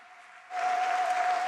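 Church congregation breaks into loud cheering and applause after a quiet start, a dense sustained roar of clapping and voices with a steady high tone running through it.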